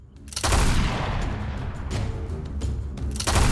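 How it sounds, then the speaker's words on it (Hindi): Army guns firing in a battle sound as dense, rolling volleys of booming gunfire, loud and continuous, with a brief lull before another heavy burst at the end. "22 अक्टूबर सुबह सुबह अलायंस आर्मी फायरिंग स्टार्ट करती है"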